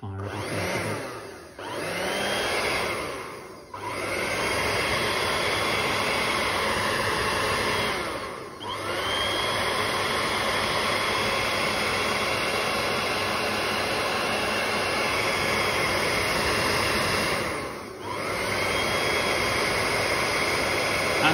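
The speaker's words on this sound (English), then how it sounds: "then you can take your hairdryer" A hair dryer blows with a steady, loud whooshing roar while drying a watercolour painting, briefly dipping a few times as it is moved or switched.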